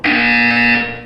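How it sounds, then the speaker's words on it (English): A loud electronic buzzer tone from the Portal 2 video game sounds once for about a second, a harsh steady buzz that fades out at the end. "You will hear a buzzer. When you hear the buzzer, look up at the ceiling."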